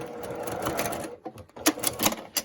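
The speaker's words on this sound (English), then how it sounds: "I'm gonna backstitch the end here" A home sewing machine runs in a quick steady burst, then stitches in short stop-start bursts while backstitching the end of a quilt seam, close and clear.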